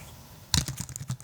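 Quick bursts of typing on a quiet-keyed computer keyboard at a studio desk, a soft flurry of close, light key clicks that starts partway in and runs on alone.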